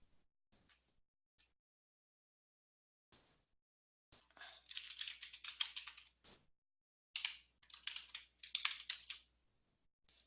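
Notes are typed on a computer keyboard in quiet, close bursts of rapid clicking with short pauses between them and a few isolated key taps at the start, with no voices.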